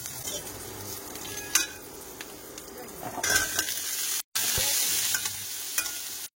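Panch phoron and chopped onion crackle and sizzle in hot oil for a home-style crab curry, with a spoon scraping the pan now and then and a brief cut in the sound partway through.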